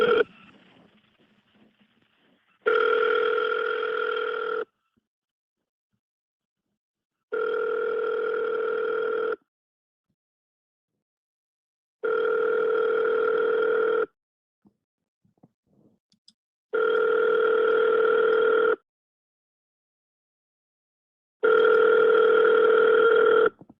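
A phone call rings out on the line, five evenly spaced ringback tones of about two seconds each separated by silence, clear and close with no talking.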